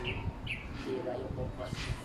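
A disoriented visiting bird at a pigeon loft gives brief, faint chirping calls a few times, set against low background rumble and nearby voices.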